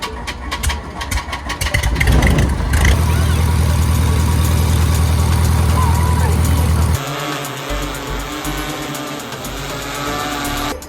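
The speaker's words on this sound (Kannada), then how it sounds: "ಇಂಡಿಯನ್ ಏರ್ ಫೋರ್ಸ್ ಅವರು ಸ್ವತಃ ಕೊಟ್ಟಿರುವಂತಹ ಜೆಟ್ ಇಂಜಿನ್ ಇದೆ." A jet engine donated by the Indian Air Force runs at a science exhibition in Kanakapura with a loud, sustained roar and hum that holds steady for several seconds, then drops to a lower, quieter drone.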